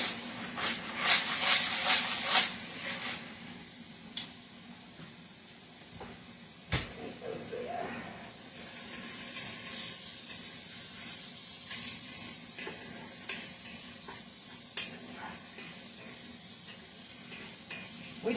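Onions softening in a hot pan give a steady sizzle and hiss, louder at first and then settling, broken by occasional scrapes and clatter of stirring, with no talking.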